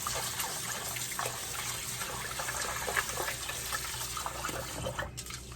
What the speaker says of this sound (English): So I like to just sort of wash it like this. Make sure grains of rice are nice and clean.